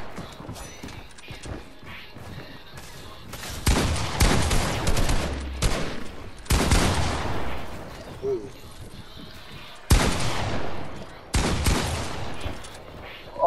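Several loud bursts of video game gunfire break out, each lasting a second or two between quieter stretches, with voices talking in the background.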